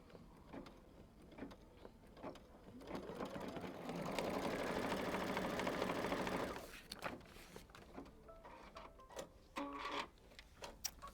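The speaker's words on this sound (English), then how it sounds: "they're going to stitch out the placement lines for the elastic casing" An embroidery machine stitches placement lines in white thread for an elastic casing on a quilt project, a steady mechanical run of rapid stitching lasting a few seconds, with quieter handling noises before and after.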